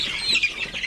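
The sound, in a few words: Philippine native darag chicken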